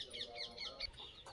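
Pure Aseel chicken chicks on a farm clucking and peeping in a continuous, close chorus of overlapping high chirps, fairly quiet throughout.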